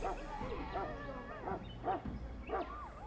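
A Mabari war hound from the fantasy game Dragon Age: Origins barks in a rapid run of yips and yelps, about five sharp calls spaced evenly, moderately close over a low background hum.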